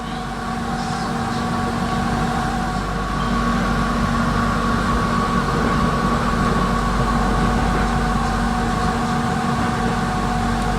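A steady, loud mechanical hum and rumble of Jakarta's airport train in motion, heard from inside the carriage, with a constant low drone and faint rattling throughout.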